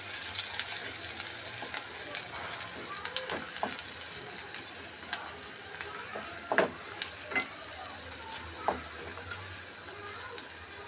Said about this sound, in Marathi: छानपैकी तापलेला याच्यामध्ये कांदा छानपैकी याला मस्त आपण गोल्डन ब्राऊन करून घेऊ